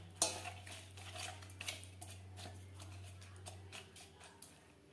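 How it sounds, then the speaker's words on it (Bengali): Tangra fish tossed with turmeric and salt in a bowl makes soft, quiet squishing and repeated light tapping against the bowl, over a low steady hum. "মাছ বেশ ভালো করে মেখে নেব।"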